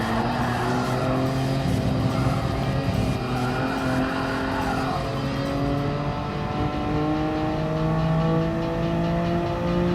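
Nissan GT-R race cars in Gran Turismo Sport rev hard and accelerate through continuous rising and falling engine tones, with several cars overlapping and occasional tire squeal throughout.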